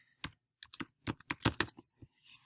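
Keys clatter on a computer keyboard in a quick run of close, crisp taps with short pauses, as a title is typed into a document; no one speaks.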